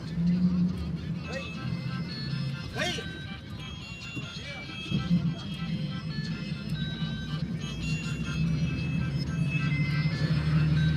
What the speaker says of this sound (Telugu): ఇప్పుడు మన బస్సు ఇప్పుడు హైవేలోకి ఎంటర్ అవుతోంది.